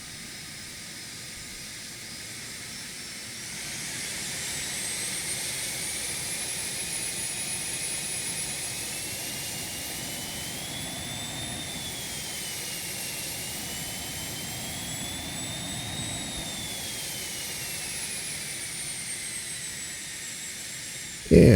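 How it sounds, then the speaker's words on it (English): The number 2 jet engine of a Phenom 300 in the X-Plane 12 flight simulator runs continuously, a steady whine and hiss that swells slightly and holds for about twenty seconds. "this is a good time for me to give you guys a sound profile from the outside on that number 2 engine."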